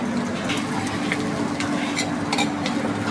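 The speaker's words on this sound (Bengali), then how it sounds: "গুগলিটায় একটু হলুদ মিশিয়ে নেব, লবণ মিশিয়ে নেব, একটু সরষের তেল দিয়ে দেবো, দিয়ে একটু মাখিয়ে নেব।" Gugli snails are mixed by hand with turmeric, salt and mustard oil, giving a continuous close, wet churning and clicking of shells.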